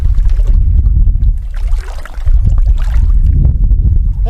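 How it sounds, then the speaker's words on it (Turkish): Strong wind buffets the microphone with a steady low rumble and gusty roar throughout, no voices heard; at a beach campsite beside a caravan at Zeytinli Kuyu, Turkey. "bak rüzgar başladı"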